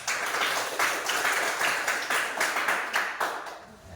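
Children in a classroom lesson clap their hands together in a steady, rhythmic group burst that holds loud and then fades near the end.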